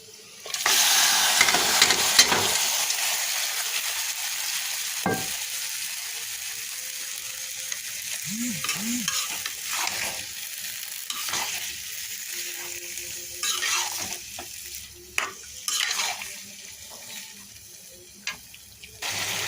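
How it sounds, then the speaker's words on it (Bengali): Boiled vegetables are poured into oil with browned fried onion and garlic, then stirred, giving a steady close sizzle with scraping and clinking of the spoon against the pan. "আর এদিকে আমি তেলে দেওয়ার জন্য এই যে পেঁয়াজ রসুন ভেজে নিয়েছি বাদামি করে এখন সবজিটা ঢেলে"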